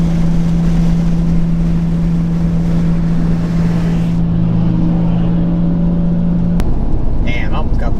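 BMW 340i with a big turbo and homemade exhaust dump accelerating, a steady loud engine drone with a rising tone that cuts off abruptly, followed by brief chirps and rushing road noise.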